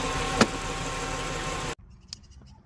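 A 2007 Dodge Charger engine runs after starting, a steady mid-pitched idle with one brief sharp knock before it abruptly cuts to near silence with faint clicks.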